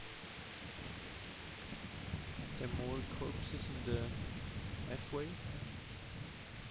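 A thunderstorm with lightning rolls through the video game Kingdom Come Deliverance as rain and low thunder, a broad steady hiss with deep rumble beneath, while a voice talks over it several times.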